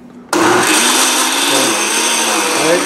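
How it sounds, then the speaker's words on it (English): A kitchen blender whirs loudly and steadily after switching on abruptly, its motor pitch wavering slightly as it runs. "Give that a quick blend."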